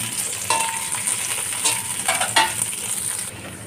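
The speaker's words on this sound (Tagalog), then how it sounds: "Lutuin muna natin yung onions po." Onions fry in a pan for a beef sparerib dish with spicy sauce, giving a steady close sizzle with a few scraping stirs of a utensil, and no voices.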